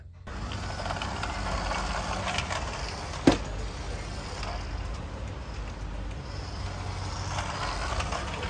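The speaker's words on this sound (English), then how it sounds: "gas truck." A gas truck engine runs steadily at close range, a continuous broadband rumble with rough texture and one sharp knock partway through, with no voices.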